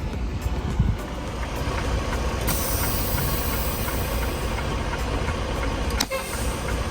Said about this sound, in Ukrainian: Зараз я вирівнюю трак